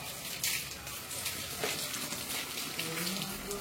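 Water sprayed from a hose or tap at a home in Jaffna, a continuous broad hissing splash that stays fairly even throughout, with faint background noise.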